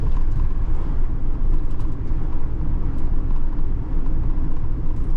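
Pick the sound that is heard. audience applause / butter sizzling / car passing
car passing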